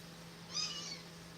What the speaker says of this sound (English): Don't know if you heard her meow, but she's to my right.